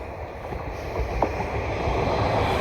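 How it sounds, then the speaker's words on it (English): Greater Anglia class 755 train approaching a junction, a steady rumble of wheels and engine that builds gradually and grows nearer over a couple of seconds, heard alone without voices. "There's a Greater Anglia 755 approaching."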